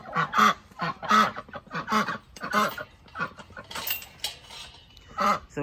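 Farm poultry calling, including ducks kept with a small flock of hens: a series of loud, close, nasal honking quacks in irregular bursts, with a few softer clucks between them.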